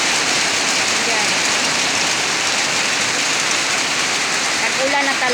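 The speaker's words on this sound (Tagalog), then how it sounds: "Nag-ulan na talaga." Steady, loud rain pours down in a dense hiss on surfaces nearby, with a voice speaking faintly near the end.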